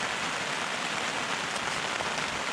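Steady rain falls in a mountain setting, a dense, even hiss of drops on surfaces that holds without a break throughout, with no talking.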